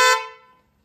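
A single loud honk from Hyundai Creta horns retrofitted on a Mahindra Thar Roxx, close and bright with a sharp attack that rings out and fades within under a second.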